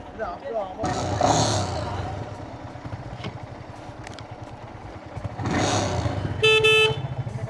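A horn sounds briefly near the end of a motorcycle ride on the highway from Hyderabad to Anantapur, heard as a short burst over steady engine and wind noise while people talk throughout.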